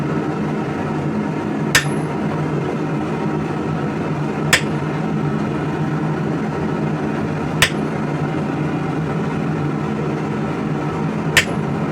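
A rawhide mallet strikes the metal of a fantasy warhammer during hot chiseling and punching work. Four sharp single knocks land about three seconds apart over a steady background hum.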